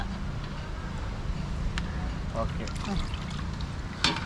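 Water is poured and trickles into two pots for a final rinse of prawns, in short, uneven splashes, with faint voices in the background.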